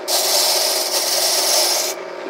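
A freshly cut key pressed against the wire brush of an 045 HD key machine for deburring, giving a loud, continuous harsh rasping whir for about two seconds before it eases off.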